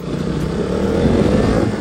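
A KTM Duke 200 BS4 motorcycle is being ridden, its engine droning loudly and steadily from close by throughout, mixed with wind rush and road noise.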